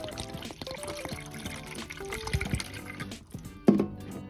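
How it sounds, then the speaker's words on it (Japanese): Water fills an empty plastic drink bottle to make vinegar water, heard as a close, gurgling pour whose pitch rises as the bottle fills, with a brief louder splash near the end. "ペットボトル、空のペットボトルにお水を 500ml 入れてもらって、"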